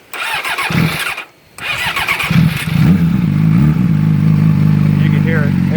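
A 2008 Yamaha R6 motorcycle with no muffler cranks and fires up, then settles into a loud, raw, throaty idle that holds steady, with a brief voice near the start.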